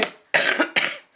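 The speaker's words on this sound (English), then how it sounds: "I've got bronchitis at the moment, so I do apologise for coughing" Three harsh, chesty coughs from a woman with bronchitis, a short first cough followed by two louder bursts in quick succession, close and alone.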